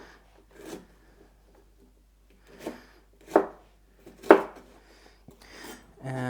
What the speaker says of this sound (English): for these yellow ones, I'm just gonna cut them into cubes